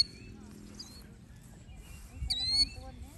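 A small bird chirps outdoors at a winery in upstate New York, with thin high tweets that repeat and rise late in the clip over quiet background talk and ambient noise.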